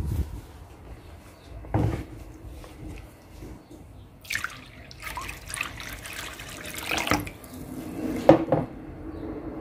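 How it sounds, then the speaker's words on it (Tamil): Water is poured over odiyal flour in a bowl to rinse and soak it for Jaffna kool in a home kitchen, with splashing and dripping, clinking vessels and a sharp clatter near the end. "இப்போ அடுத்ததாக புதுசாக தண்ணியை விட்டு ஊற வைக்க போகிறோம்."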